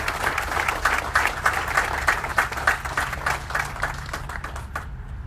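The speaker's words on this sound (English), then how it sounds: "let's give a round of applause to everyone with RDW" A crowd at a groundbreaking ceremony for a new television station claps warmly, a dense, fairly close burst of applause that holds steady and then tapers off near the end.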